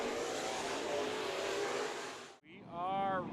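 Race cars roar past at Bakersfield Speedway with a loud, sustained engine din that cuts out abruptly, then returns as a high, rising engine whine.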